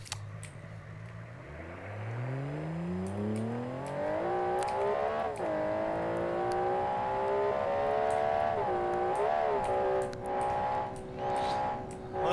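A car engine in the BeamNG Drive driving game revs up steadily, its pitch climbing over the first few seconds and then holding a high, continuous drone with brief wavers, loud and close throughout.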